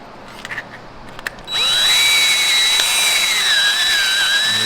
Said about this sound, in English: We use a Unibit Harbor Freight, right, to expand this hole